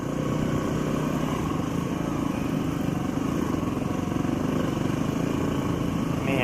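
A heavily loaded motorcycle, saddlebags stuffed with cooking gear and food, runs at a steady engine drone on a ride toward a remote Alaskan cabin, with a constant low rumble and wind noise and no voices.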